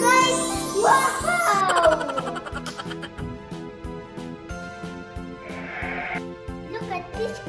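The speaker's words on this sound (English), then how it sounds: "it's a goat." A goat at a zoo bleats in a few wavering calls near the start, over bright children's music with a steady beat, with a voice also heard.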